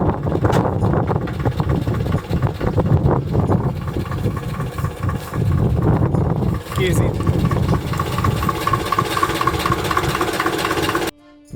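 A 1967 GAZ M21 Volga engine cranked by hand and catching, running with a steady mid-pitched idle that fills the space close by, while someone talks over it.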